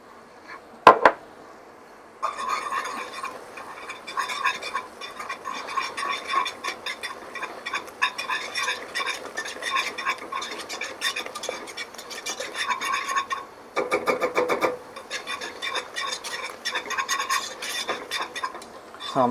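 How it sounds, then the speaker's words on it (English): Tomato paste is whisked into flour in a pan for beef stroganoff, a steady, close scraping and clinking of the whisk against the pan that runs almost continuously, with a brief pause near the middle. "So now we are going to add in the 4 tablespoons of tomato paste. And we're going to whisk that in as well."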